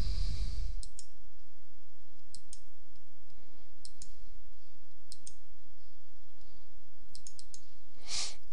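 Computer mouse clicking while measuring on a dental CBCT scan: sharp, quiet single clicks come at irregular intervals over a near-silent background, ending in a louder click.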